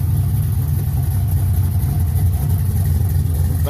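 A street car called T-Rex, billed as the fastest street car in the world, idles loudly and steadily with a deep, rumbling engine tone throughout.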